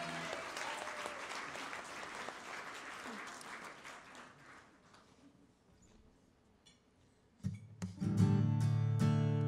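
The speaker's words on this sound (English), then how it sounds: "So clap for Andres" An audience at a live poetry performance in a coach house claps for the accompanying guitarist, the applause fading out over several seconds before a guitar starts playing.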